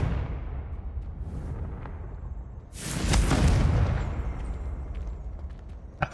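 Confringo spell explosion in Hogwarts Legacy, a loud booming blast about midway that swells and rumbles down over several seconds against a quiet ambient background.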